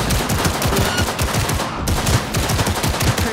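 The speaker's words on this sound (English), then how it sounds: "Heard shots." Rapid, sustained automatic gunfire in the futuristic shooter Cyberpunk 2077, loud and close, with steady bursts of shots running the whole time and no talking.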